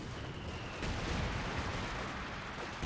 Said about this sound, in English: MG42 gets some heavy shelling there